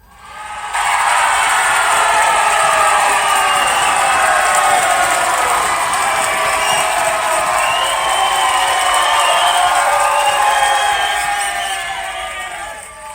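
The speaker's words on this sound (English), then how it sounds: "Let's give them a round of applause." A church congregation applauds and cheers loudly in a dense, sustained roar that swells in and holds steady before easing off at the end.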